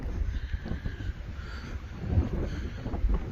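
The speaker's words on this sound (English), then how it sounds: "Oh, the wind, the wind, the wind." Wind buffets a microphone outdoors on a rural property near a barn and fence pallets, a steady low rumbling roar with gusty swells throughout and no talk.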